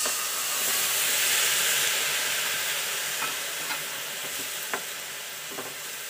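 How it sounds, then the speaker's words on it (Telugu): Half a kilo of chopped tomatoes frying in oil for tomato roti pickle, giving a soft, steady steamy sizzle and hiss with occasional clicks of stirring, fading slightly over time. "అవి వేయించుకుందాం."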